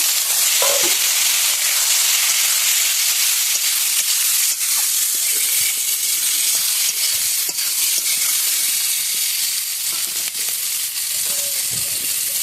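Tomato and green chilli fry with potato and aubergine in a hot pan, making a steady, close sizzle over which a utensil scrapes and taps at irregular intervals; nobody speaks.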